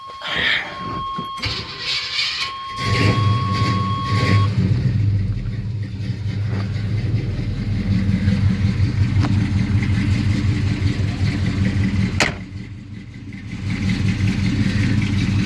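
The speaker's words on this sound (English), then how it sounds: "old truck's got a good sound to it." An old Chevy C10 truck is started, then its engine settles into a deep, steady rumbling idle close by, holding for over ten seconds with a brief dip and recovery near the end.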